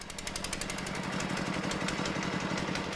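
A small paco-paco utility vehicle from the Brazilian Amazon, full of faults and needing repair, runs its engine with a loud, rapid rattling chug pulsing steadily close by, without any talking.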